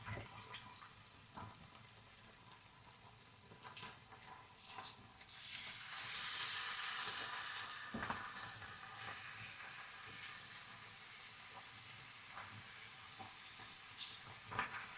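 Thick pieces of bacon fry in a pan for a breakfast sandwich with a soft, low sizzle. It swells into a brighter, hissing burst midway, then settles back down, with occasional light knocks and no talking.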